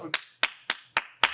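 Five sharp, separate hand claps spaced evenly at a brisk pace, close and crisp with brief decay between each.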